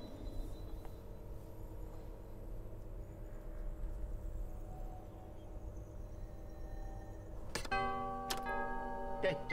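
A doorbell chimes in LEGO Star Wars: The Skywalker Saga at Jabba's palace: a few short bright ringing tones near the end, after a stretch of quiet, low game ambience.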